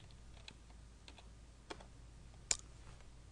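A computer keyboard is tapped in a short run of light, sparse keystrokes, with a sharper louder key press near the end, quiet and close with no talking.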